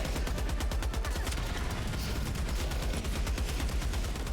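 Video game gunfire with the triggers held down, a loud, continuous rapid stream of shots firing without a break, dense and close like a machine gun in a hectic firefight.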